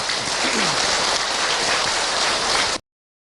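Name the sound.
audience applause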